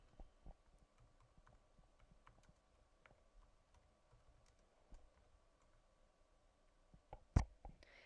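Faint, scattered keystrokes tap on a computer keyboard during spreadsheet data entry, irregular and quiet, with one sharper, louder click near the end.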